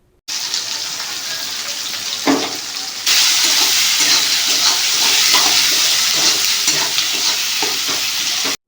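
Chopped onions fry in hot oil in a pan, a dense sizzle that starts abruptly, jumps louder partway through and is broken by scraping stirring strokes.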